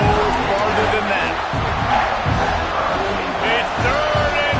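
Roaring football stadium crowd at a third-and-goal play, a loud continuous wash of cheering and shouting with rising swells, heard under an announcer's commentary.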